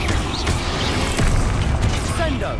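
Bombarda blasting curse going off in Hogwarts Legacy, a dense booming burst with crashing debris that stays loud across the whole stretch, with a voice shouting over it.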